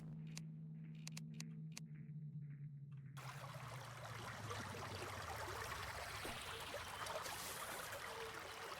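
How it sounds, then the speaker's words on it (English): Flowing water in the video game Terraria: a steady, fairly loud rushing and trickling wash that takes over after a quiet start with a low hum, continuing evenly to the end. "There's weirdly loud water sounds."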